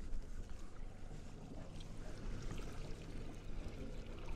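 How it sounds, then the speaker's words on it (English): A Yamaha four-stroke outboard motor idles on the back of a Yellowfin 5800 boat, a quiet, steady low rumble mixed with water and wind noise, with no voices. "So now our motor's running."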